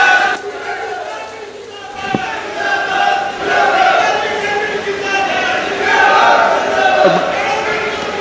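A large crowd at a political rally for MP Dharmveer Singh cheers and claps continuously, a loud, dense roar of voices sustained throughout, with a brief sharp knock partway through.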